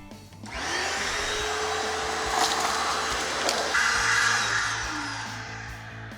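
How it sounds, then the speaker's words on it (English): A vacuum cleaner runs over the carpet inside a Porsche Boxster S, starting up then whining loudly and steadily with brief scraping bumps and pitch shifts as the nozzle moves, tapering off toward the end. "So first I'm going to run in here, vacuum up all the loose debris"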